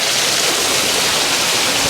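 Water cascades tumbling through a chain of small lakes and falls in Crimea, a loud, steady broadband rush with no pauses or voices.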